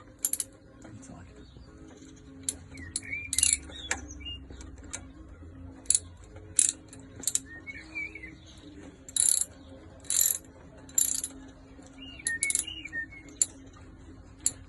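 A ratchet clicks in short bursts while the clutch spring bolts come out of a 1995 Yamaha Virago XV250, the quick metallic ticking repeating near the mic with brief pauses between turns.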